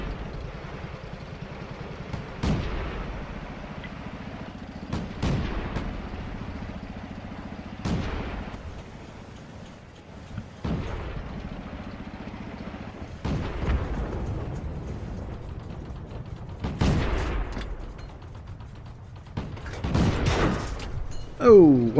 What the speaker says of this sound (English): Oh, where am I getting shot from?